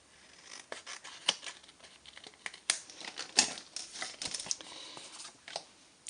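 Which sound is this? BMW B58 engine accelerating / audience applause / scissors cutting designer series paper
scissors cutting designer series paper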